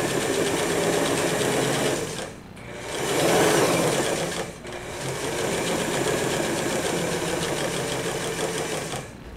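Sewing machine stitching the outside and inside leg seams of a pair of pants, a fast continuous mechanical whir in three runs separated by two brief pauses, close and alone.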